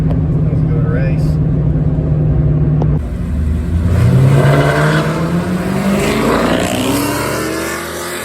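A modified Chrysler 300C launches down a drag strip, its engine note climbing steadily in pitch as it accelerates hard. The roar stays loud and close, rising from a steady idle-like drone into a long sweeping pull.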